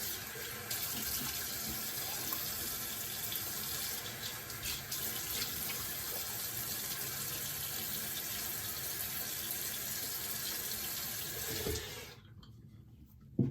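Tap water runs steadily into a sink while a razor is rinsed off during a shave, a continuous close splashing flow that cuts off near the end, with no talk.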